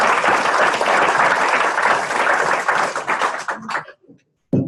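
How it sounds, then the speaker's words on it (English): A crowd applauds loudly, a dense wash of clapping that thins into a few scattered claps before stopping. "can I please give a round of applause to Ross?"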